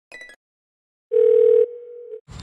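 A short burst of sound, then a single steady electronic phone tone that holds and then fades lower, followed by a brief noisy sound at the end.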